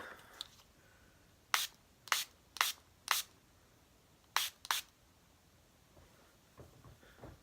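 Setting spray misted onto a face after foundation: six short, crisp hissing pumps close by, four in quick succession and then two more after a brief pause, in a quiet room.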